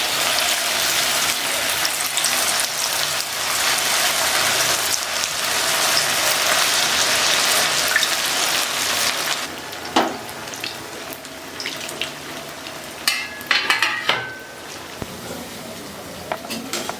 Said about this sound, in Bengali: তো দেখো এখন আমি তেলে ছাড়বো একটা করে। এই যে তেলে ছেড়ে দিলাম